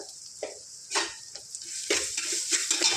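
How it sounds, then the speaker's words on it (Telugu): Ginger garlic paste frying in a pan gives a soft hiss broken by repeated scraping stirs and light clatter of a spoon against the pan, close and without talk. "అల్లం వెల్లుల్లి పేస్ట్ పచ్చి వాసన పోయేంత వరకు ఫ్రై చేసుకోవాలి"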